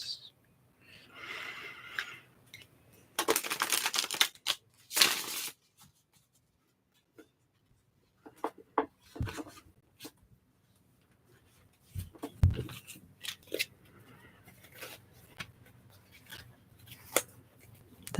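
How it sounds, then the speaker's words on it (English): Tarot cards riffle and slide in short bursts, soft papery shuffling with pauses between, close and quiet. "I'm almost done shuffling the cards."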